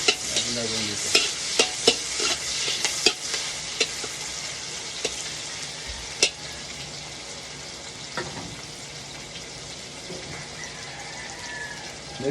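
Continuous sizzle of garlic and onion sautéing in a pan, punctuated by sharp clicks and scrapes of a spatula stirring, no talking.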